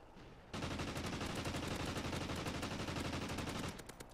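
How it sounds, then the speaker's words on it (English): The helo scout killstreak in Call of Duty: Ghosts on Wii U, heard as a loud, dense, sustained rapid fire that starts abruptly and runs for about three seconds before cutting off. "That's the helo scout."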